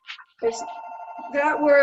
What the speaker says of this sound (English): Sorry, that's a phone I thought I had turned off.